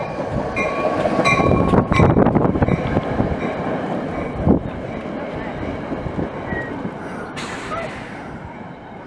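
A New Jersey Transit train rolling into a station, a steady low rumble and rattle of wheels over track with wind buffeting the microphone, a sharp clank midway and a faint squeal near the end.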